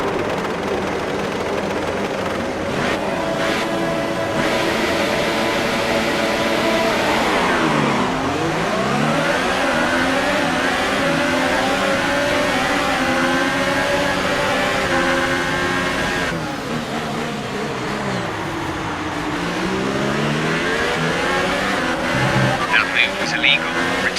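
F1 race cars in a video game pulling away from the start at the Bahrain circuit, loud high-pitched engines revving and sweeping through gear changes continuously, with a voice talking over the roar.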